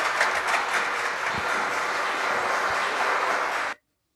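An audience at a live German stage show applauds steadily for nearly four seconds, a dense wash of clapping that stops abruptly into silence.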